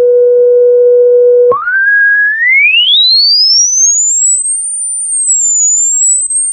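Pure test tone played loud through small Logitech LS21 computer speakers, holding steady low then jumping up and sweeping steadily higher into a piercing, whistling pitch, alone with no talking.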